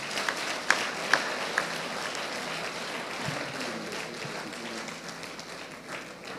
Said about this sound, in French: J'aimerais qu'on le termine par une acclamation.